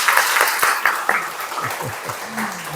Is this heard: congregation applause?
yes